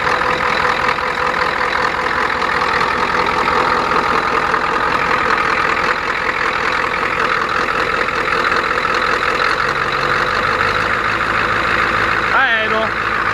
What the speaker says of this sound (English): I'm going to let this thing idle up the temperature and idle there for a good 10 minutes